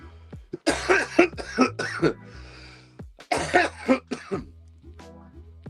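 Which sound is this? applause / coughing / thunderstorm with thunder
coughing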